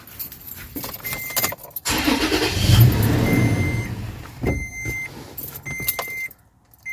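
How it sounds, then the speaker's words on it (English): Keys jangle, then a car engine cranks and catches after a throttle body cleaning, roaring briefly before dropping; more key rattling and clicks follow close up, with no speech. "now I'm going to go ahead and turn the engine back on"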